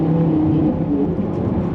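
A Lamborghini Gallardo V10 in Corsa mode revs hard with quick gear shifts, a loud raw engine drone heard from inside the car with brief pitch drops between gears.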